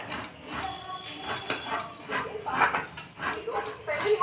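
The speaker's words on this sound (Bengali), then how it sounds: "নারকেলটাকে কুড়িয়ে নেওয়া হচ্ছে" Fresh coconut scraped on a grater for chandan kaath pitha, a rough rhythmic rasping of repeated strokes close by, with soft background voices now and then.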